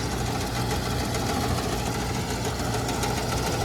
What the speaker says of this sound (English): The motor is strapped to the plate is strapped to that bracket, but the whole thing's wobbling.